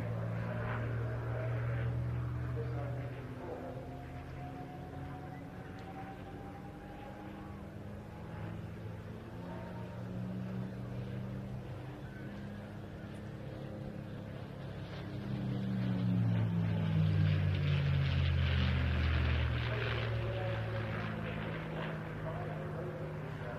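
A P-51 Mustang with a Merlin engine flies at the Bournemouth Air Festival, its engine drone rising and falling as it passes and swelling loudest near the end, under steady commentary from a voice.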